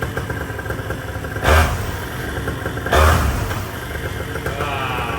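A Vittorazi MY22 paramotor engine running at high revs after a fix for a fault that kept it under 6000 rpm, a loud sustained buzzing drone with two brief surges of throttle blips, close and without talk.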